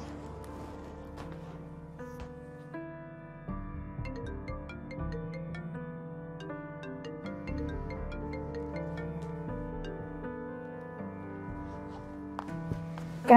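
A mobile phone rings with a looping melodic ringtone, steady and fairly loud for about thirteen seconds, with no one speaking over it.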